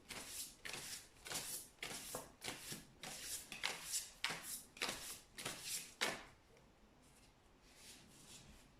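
An astrology tarot deck is shuffled by hand in a quiet room, about a dozen soft, papery riffles in a steady rhythm before it stops. The sound is close and gentle, with no talking.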